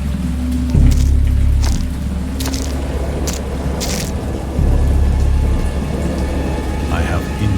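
A thunderstorm sound effect: steady heavy rain hisses throughout while deep rolls of thunder rumble in, swelling loudly twice, with sharp crackling rain splashes scattered over the roar.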